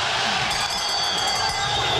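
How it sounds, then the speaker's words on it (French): Boxing world championship crowd in 2003 rising to its feet, a sustained, loud wash of cheering and roaring from the whole arena, continuous throughout with a faint voice underneath. "L'acclamation, regardez le public qui se lève derrière."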